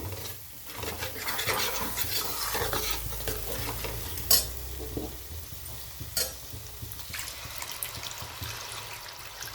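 Quiet frying of masala with stirring and scraping in a pan, a brief splash and a sharper sizzle when water goes in, then continued soft bubbling.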